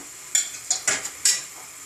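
Tomato frying in a pan while being stirred gives a soft sizzle broken by four or five quick scraping strokes in close succession, heard alone.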